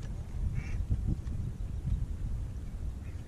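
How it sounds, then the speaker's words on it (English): A goose with an injured wing near a fishing spot, giving a couple of short honking calls over low rumbling wind and water noise. "There's a goose."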